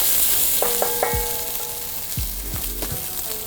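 Vegetables browning in a hot pan for braised lamb shanks, a steady close sizzle and crackle with a few soft stirring clinks, no voices.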